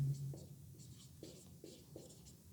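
A pen scratches and taps across a surface as a straight-line formula in Cartesian form is written out for a class 12 maths lesson, with soft close strokes repeating under low background hiss.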